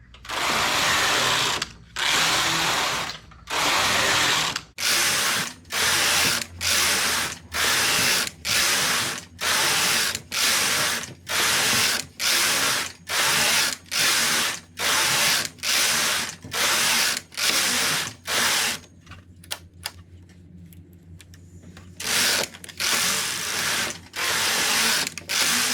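A knitting machine carriage sweeps back and forth across rows of an adult-size slipper, each pass a loud rasping whir in a steady rhythm of about two per second, with a brief quiet pause partway through.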